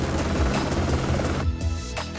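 A helicopter closes in, its rotor beating in a loud, steady rhythmic thump over a dense, continuous engine roar that fills the whole stretch, the tone shifting slightly about two-thirds of the way through.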